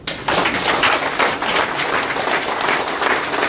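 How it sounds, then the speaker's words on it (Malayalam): A live audience at an interactive motivational session claps together, a dense, steady wash of applause starting sharply and holding loud for several seconds. "ഒന്ന് കൈയടിച്ച് പാസ്സായിരിക്കും"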